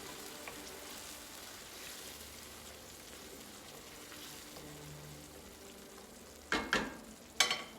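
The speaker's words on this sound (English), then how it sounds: "Give it a stir." Tomatoes are stirred in a hot frying pan with a steady close sizzle, and a couple of sharp utensil clanks against the pan near the end; nobody speaks.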